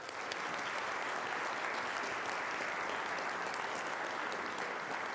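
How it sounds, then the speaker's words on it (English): Steady, dense applause from a council meeting audience honoring a 10U youth baseball team, continuous and even at a moderate distance, with no talking. "Let's give an applause to the 10U first."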